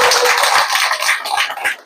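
A crowd at a seminar-style talk breaks into a short burst of hand clapping. It is brisk and fairly loud but fades after about two seconds, with no speech over it.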